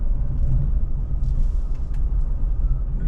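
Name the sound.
tour buses driving past on a road in Phú Quốc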